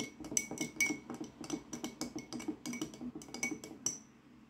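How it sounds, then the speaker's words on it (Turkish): A spoon briskly stirs salad dressing in a glass bowl, a rapid rhythm of bright clinks and taps against the glass, close and soft, slowing near the end, with no talk. "sosumu bir kaşığım yardımıyla şöyle karıştırarak hazırlıyorum"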